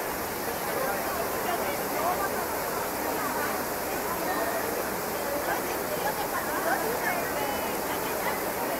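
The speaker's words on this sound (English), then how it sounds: "I just love the water and the fountains." Water from the Trevi Fountain in Rome rushes and splashes in a steady, dense wash, with a crowd's murmur and voices mixed under it throughout.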